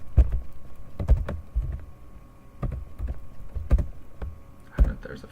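Keys clatter on a Japanese computer keyboard while typing a note, irregular bursts of close, crisp clicks with brief pauses between them.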